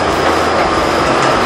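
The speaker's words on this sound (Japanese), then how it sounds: "これがニュージャージートランジットの電車です" A New Jersey Transit train rumbles loudly and steadily past, close by, with a continuous rolling clatter of wheels on rails and no voices.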